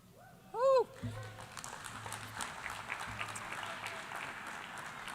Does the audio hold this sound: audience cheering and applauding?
yes